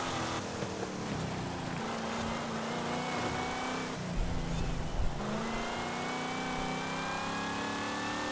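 Dodge Coronet Super Bee muscle car engine in Forza Horizon 5, a steady loud drone with rising pitch as it revs, briefly roughening midway before settling back into a sustained run.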